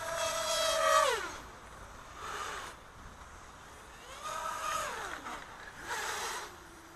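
A racing quadcopter swoops sideways at full throttle, its motor whine rising and then falling in pitch several times as it passes back and forth, at moderate distance.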